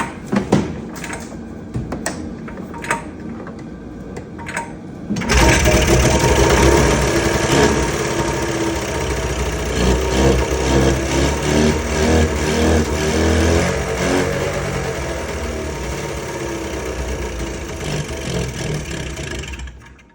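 Arctic Cat Z440 snowmobile from 2003 being started without its airbox, a few brief cranking pulls then the two-stroke engine catching abruptly and running loudly and steadily, close up.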